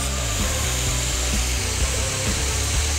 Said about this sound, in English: you basically just keep grinding till you get to the back and grind the edge